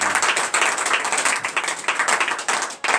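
A church congregation at a Beninese morning prayer claps together in fast, steady rhythm, a dense and continuous sound of many hands with no voices above it.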